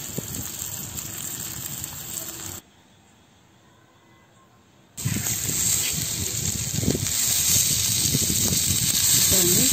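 A large kal meen fish fries on a tawa over low heat with a loud steady hiss and sizzle, close by, cut off by a brief near-silent gap before the frying resumes.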